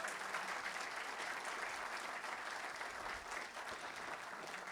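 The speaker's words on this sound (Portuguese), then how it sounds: "a quem eu peço também uma calorosa salva de palmas" Audience at an awards ceremony giving warm applause, a steady, even roar of many hands clapping together, distant and fairly faint, continuing without pause.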